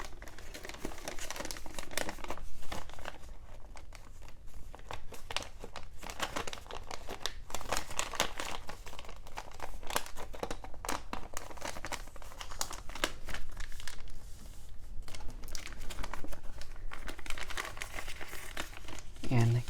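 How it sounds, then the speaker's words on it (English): Paper crinkling and crumpling steadily as a sheet is folded into an origami frog, close and continuous, with a voice talking over it throughout. "Then petal fold. And fold it to the left."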